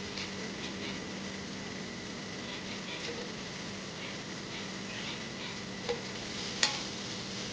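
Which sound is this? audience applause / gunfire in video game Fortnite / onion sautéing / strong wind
onion sautéing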